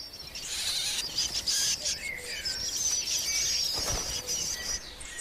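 Young shrikes beg in the nest in a forest, a dense, continuous chorus of thin, high chirps and squeaks, close and fairly loud, with no talking.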